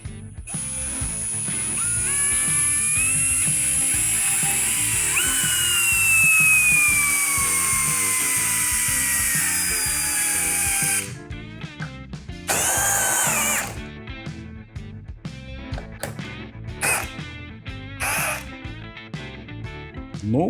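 A Procraft CD20B cordless drill in first gear on turbo mode drives a large 12 mm screw, 185 mm long, into wood: a loud whining motor strains for about eleven seconds, then stops and starts in short bursts.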